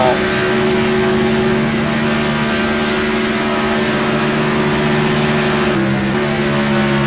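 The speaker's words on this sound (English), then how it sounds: "If you can hear it, that truck is not healthy at all." A racing truck engine in poor health drones loud and steady from onboard Sean Whitehill's FAST SuperTruck at Homestead at high speed, with a rough tone and a brief dip in pitch near the end, without any talking.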